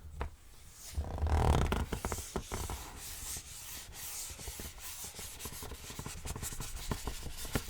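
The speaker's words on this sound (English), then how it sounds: "How does this sound when I brush on it?" A soft, continuous scratchy brushing for ASMR, with a close rhythmic rubbing texture that sounds like bristles sweeping across a surface, brief louder strokes near the start, then steady gentle swishes.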